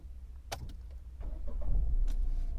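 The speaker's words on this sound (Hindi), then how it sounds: "अब अंदर से सुनाता हूँ इसके इंजन नॉइज़ कैसा है" Low, steady engine rumble of an idling Tata Punch facelift, heard from inside the cabin with the AC off, with a few faint clicks and rattles over the top.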